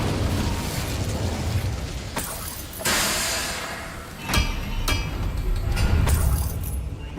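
A fire spell cast in Hogwarts Legacy, heard as several loud bursts and whooshing blasts spread across the clip over a steady game background with no talking.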